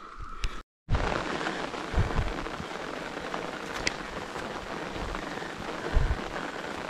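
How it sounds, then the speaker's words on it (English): Rain falls steadily on the Appalachian Trail in Virginia, a constant soft patter of drops on surrounding surfaces, with a brief silent gap near the start and no voices. "it has started to rain again"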